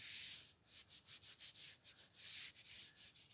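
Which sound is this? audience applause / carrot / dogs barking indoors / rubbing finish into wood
rubbing finish into wood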